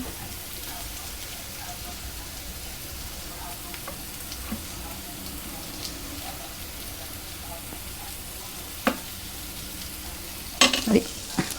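Jowar masala dosa sprinkled with dosa powder and topped with curry, frying on a hot pan; a steady, close sizzle runs throughout, with a few light scraping clicks near the end and no talk.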